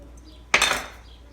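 Cut potato and carrot chunks for menudo dropped into a metal pot, a single sharp clattering clunk with a brief rattling decay, close and otherwise quiet.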